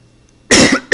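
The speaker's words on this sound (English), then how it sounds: "Sorry, I'm going to cough at you." A person coughs loudly and close up, two sharp bursts, the second following quickly after the first, with a quiet pause before them.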